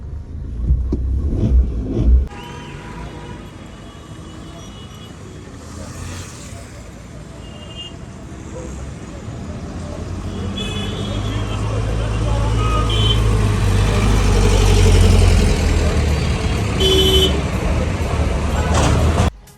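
Car driving through heavy city traffic, a steady low road rumble that swells toward the middle with passing vehicles, while people talk inside the car over it.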